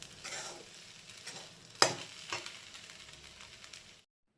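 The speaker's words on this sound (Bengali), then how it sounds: "আপনার সাবুদানাটা কিন্তু ফ্লেমে রাখতে হবে আর নাড়তে থাকতে হবে" Sabudana khichdi being stirred in a pan over the flame: soft scraping and a faint sizzle run throughout, with one sharp spoon clink on the pan near the middle before the sound cuts out.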